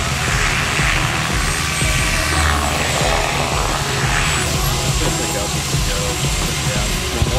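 A helicopter hovering in reverse gives a loud, dense rotor and engine roar with a broad whine and a steady, continuous beat that stays close throughout.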